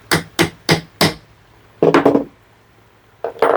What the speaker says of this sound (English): a little punch just to mark the spot for the hole, which I think is about there, and give that a little tap